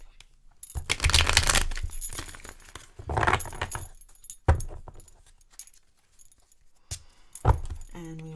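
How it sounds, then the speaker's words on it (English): A deck of tarot cards is shuffled in bursts of rustling, riffling and slapping, with pauses between, close and fairly quiet. "I'm just going to shuffle them up a little bit more."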